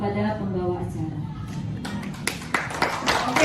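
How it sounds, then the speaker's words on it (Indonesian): An audience claps for a teacher after her presentation, scattered hand claps building in the second half while a voice talks over the start. "tepuk tangan untuk Ibu Ketua Misi"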